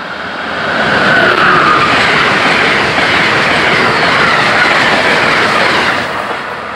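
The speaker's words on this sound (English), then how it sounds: "ACS-64 is hauling a 178 Northeast Regional heading up to Newark, New York, Penn Station, and Boston." An Amtrak Northeast Regional train led by a Siemens ACS-64 electric locomotive passes close by, a loud sustained roar with rhythmic clickety-clack of wheels over rail joints that swells in and fades out over several seconds.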